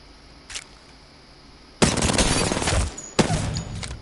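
An overpowered gun in the video game Apex Legends fires loud, rapid bursts, with a faint pop first and then two dense volleys separated by a brief gap.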